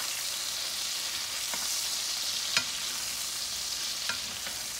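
Steak frying in a skillet with butter and oil produces a steady, even hiss of sizzling fat, close and continuous, with a couple of faint clicks of a utensil and no talking.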